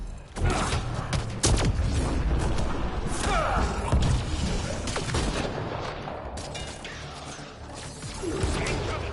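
Heavy shotgun blasts in Mass Effect: Andromeda combat, several loud sharp shots scattered through a dense, noisy battle with crashes and mechanical clatter.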